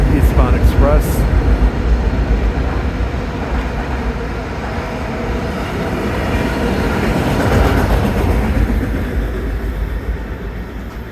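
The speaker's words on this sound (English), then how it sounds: "And there's another Eastbound Express." An LIRR eastbound express train rushes past at Woodside, a loud, continuous rumble and rail clatter lasting throughout, with a horn-like tone at the very start.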